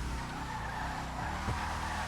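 In the video game GTA, a Gauntlet Interceptor drifts using clutch kicks: a continuous engine drone with tire skidding and a brief squeal swell, fairly quiet and alone.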